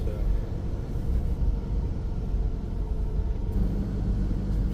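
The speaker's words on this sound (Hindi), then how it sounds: "गाड़ी के इंजन की आवाज है, लेकिन बाकी आप फील करिए।" A Gypsy jeep's engine idles at night in a quiet forest near Halduparao in tiger territory, a steady low rumble close by with no other distinct sounds.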